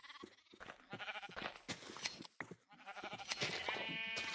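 Minecraft sheep bleat several times in wavering, nasal cries, fairly close and loud, with electronic game sounds in between.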